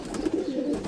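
A baby pigeon gives a short, low cooing call up close, a brief throaty murmur lasting under a second.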